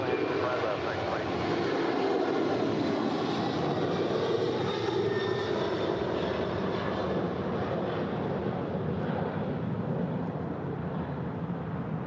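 Airliner on final approach to runway 25 Left at LAX, a steady broad engine roar that holds loud and close throughout with no letup.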